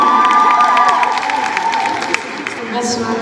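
A crowd at a wedding fair cheers and applauds as a bridal brand's designer is introduced, loud and dense, with shouts and a high whoop rising over a steady mass of clapping.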